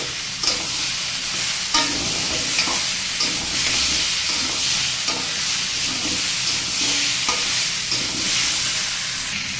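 Mixed vegetables for a vegetarian dish fry in a pan with a steady hiss, while a spatula stirs and scrapes in repeated, fairly loud strokes across the sizzle.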